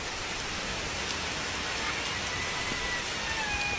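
Steady rain falling near a house, a dense even hiss of drops at constant loudness with no talking.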